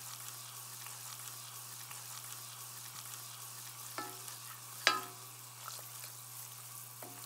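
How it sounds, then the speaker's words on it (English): A flour-and-fat roux for turkey gravy cooks in a pan with a low, steady sizzle, and a spoon scrapes through it now and then, including one sharper clack near the end. No one speaks. "As the roux cooks, it will turn from a light tan color to a nice rich brown."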